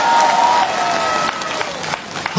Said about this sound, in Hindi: हाँ ताली जोर से बजाइए एक बार।